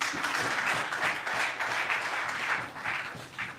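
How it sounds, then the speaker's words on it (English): Evening crowd at a Westmoreland small-business dialogue applauding steadily, dense clapping sustained from start to finish at an even, moderately loud level. "Put your hands together for them."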